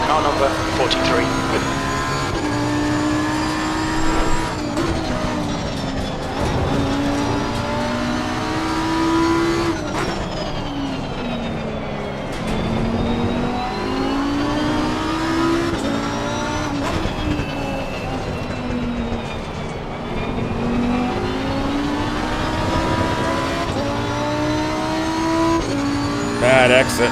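Race cars lapping Zandvoort in the sim racing game Assetto Corsa Competizione, engines revving up and down through gear shifts with rising and falling pitch, occasional tire squeal, loud and continuous under intermittent talk.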